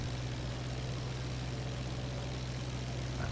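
Aircraft engine in the IL-2 flight simulator game, a steady low droning hum at constant power with a faint rumble, even and unbroken throughout, no voices.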